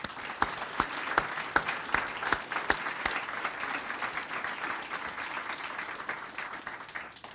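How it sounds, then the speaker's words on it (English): A large audience breaks into sustained applause welcoming a newly appointed university provost, steady dense clapping with a few louder individual claps near the start, filling the room for several seconds. "Let's give him a round of applause."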